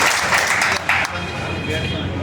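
Audience clapping at a political speech gathering, a dense burst of applause throughout under a speaking voice.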